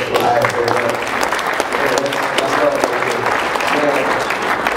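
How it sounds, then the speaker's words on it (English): Dense, steady applause from the audience at a PAX East 2012 nerdcore panel, a full roomful of hands clapping loudly and continuously throughout. "So just give a round of applause for yourself."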